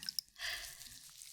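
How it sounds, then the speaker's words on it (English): Warm water trickles from a squeezed sponge in a close, quiet ASMR setting, a soft dribbling wash after a couple of tiny drip-like ticks, intimate and gentle throughout. "I like the noise the water makes when you squeeze out the sponge. How it trickles down like that."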